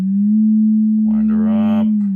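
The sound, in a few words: steady test tone through 1960s Acoustic 260 amp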